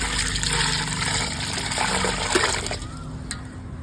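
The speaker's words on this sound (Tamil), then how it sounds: "இப்போ நம்ம தண்ணி ஊற்றிடலாம்." Water poured onto a newly planted potted plant in a container garden, a continuous splashing, trickling flow over a low steady background hum, thinning out toward the end.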